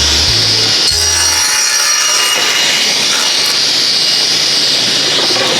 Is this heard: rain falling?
no